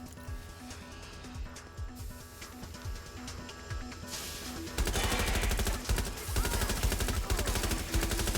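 Gunfire in the video game Watch Dogs: Legion, scattered shots at first, then a dense, loud stream of rapid automatic fire for the last few seconds.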